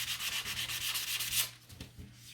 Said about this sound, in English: so let's give that a sand.